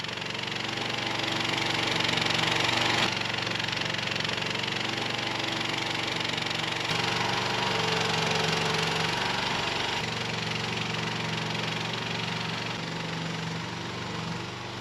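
A small 1,600-pound skid steer engine runs at a steady idle outdoors, a continuous mid-pitched drone with a faint knocking pulse, moderately loud and unbroken throughout, with no talk.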